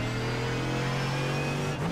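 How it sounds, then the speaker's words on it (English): A loud, droning IMSA GT3 race car engine in iRacing at Monza hums steadily at high revs, with a brief pitch shift near the end. "This engine's really loud compared to the last cars."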